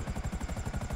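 A helicopter in the video game Grand Theft Auto V gives off a steady, rapid rotor chop with a pulsing low thump, close and continuous, and no one speaks.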